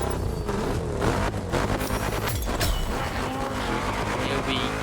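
Engine of a car fitted with the American Dream kit in The Crew Motorfest racing game, a steady loud drone with bursts of revving and tire noise throughout, no talking.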